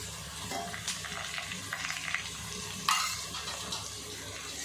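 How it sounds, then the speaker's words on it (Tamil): Onions fry in hot oil for chicken maqluba biryani, a steady sizzle with stirring scrapes and a brief louder clatter partway through, with no one talking. "அப்படி எண்ணெயிலே போட்டு வதக்குறோம் ஒரு கால் கிலோ வெங்காயம் போட்டுருங்க"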